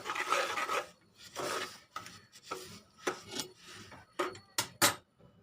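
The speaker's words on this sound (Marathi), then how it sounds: "आता हे पटापट आपल्याला हलवून घ्यायचंय." Sesame seeds for til laddoo being stirred quickly in a pan make a run of dry, raspy scraping strokes in uneven bursts, close and clear, with no talking.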